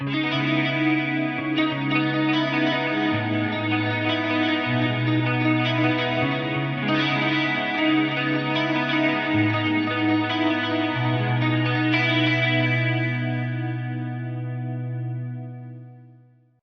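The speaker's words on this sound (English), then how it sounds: "This one is called Schmo, and it's all about that tri-chorus and detune thing." Ambient guitar preset on a Fractal FM3 with tri-chorus and detune, sustained shimmering chords swelling and shifting under heavy modulation, loud and continuous before fading out at the end.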